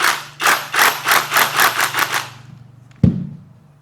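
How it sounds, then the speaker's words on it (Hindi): A Dongcheng DCZC22 cordless rotary hammer drill hammers with a chisel in a rapid, regular pounding burst lasting about two seconds, loud and close. The motor then winds down and a single sharp knock follows. "हम फिर से जो है मशीन को हैमर में डाल रहे हैं और उसके बाद हम फिर से हमारा हैमरिंग का काम शुरू कर सकते हैं"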